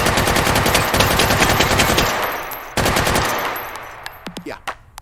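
A fully automatic machine gun fires in the H3VR video game in two long, rapid bursts, loud and close, each breaking off into fading echoes and a few clinking casings.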